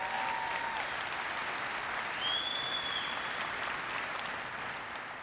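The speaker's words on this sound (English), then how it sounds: "So a big round of applause" An audience at an architecture, engineering and construction keynote in Las Vegas claps in sustained, steady applause that fills the hall, with a few faint whistles rising above it.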